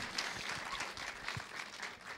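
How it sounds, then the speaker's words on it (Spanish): Audience applause for a guest named Gabriel Oliveri on a Spanish-language talk show, a steady wash of clapping lasting a couple of seconds at moderate, slightly distant level with no one speaking. "quiero pedir un fuerte aplauso para Gabriel Oliveri"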